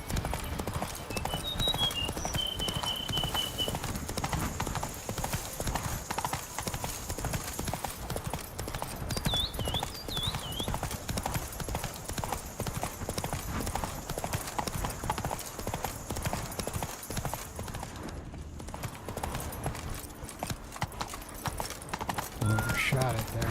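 Roach, Geralt's horse in the video game Witcher 3, gallops with steady, continuous hoof clip-clops against a constant wash of ambient game sound, with brief birdlike chirps above.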